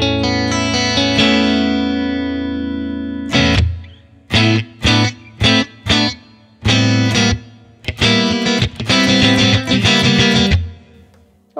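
Electric guitar played through a Boss GX-100 set to a clean Fender Twin amp model: a ringing sustained chord, then a run of short choppy strummed chords with brief gaps, loud and close with no talking.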